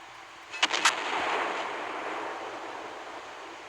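Armor-piercing naval gunfire from a warship in the Naval Creed video game: two or three sharp, loud cannon shots in quick succession, followed by a rumbling, fading wash of noise.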